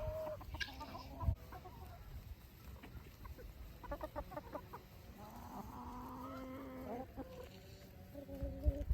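Chickens and guinea fowl on a small farm give soft, scattered clucks and short calls at low level, with occasional nearby rustling and no talk.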